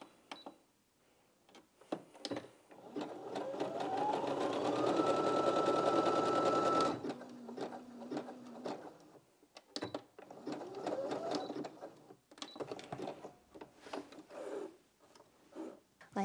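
A Brother Innov-is 15 sewing machine runs a zigzag stitch in one steady, loud burst of about three seconds, ramping up then cutting off, with softer mechanical clicks and handling around it and no talk.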